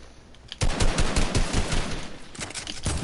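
Rapid bursts of drum-fed shotgun fire in a PS4 video game, loud and close, a dense rattling stream of blasts after a brief quieter lead-in.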